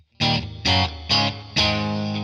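A Stratocaster played through a Pigtronix Echolution 3 delay pedal into a Deluxe Reverb amp rings out four clear, evenly spaced chord strums, each with a bright, slightly driven tone and a short repeating tail.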